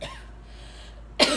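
A single sharp cough bursts out near the end, close and loud, after a quiet kitchen moment while nutritional yeast is being scooped.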